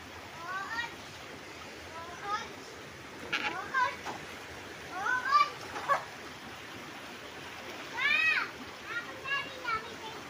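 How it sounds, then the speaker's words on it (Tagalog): Children bathe in a river, with scattered splashes and excited, high-pitched young voices in bursts over a soft flowing-water background. "Yan mga naliligo, mga bata."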